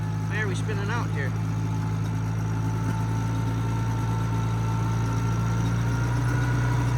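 A Cub LoBoy tractor engine runs at a steady, loud drone close by, with a voice talking briefly near the start.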